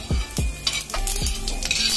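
Whole spices, including bay leaf and cumin, fry in two spoons of hot oil in a kadhai over a medium flame, producing a loud continuous sizzle broken by several sharp clanks of a spoon against the pan.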